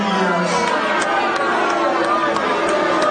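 Baltimore crowd reacting to a police commissioner's apology, a mix of applause and booing with dense babble of voices, steady and fairly loud with scattered sharp claps.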